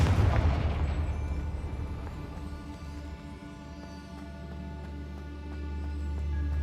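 A Confringo fire spell explodes in Hogwarts Legacy with a heavy booming blast up front, then a long rumbling, crackling tail that slowly decays and swells slightly again.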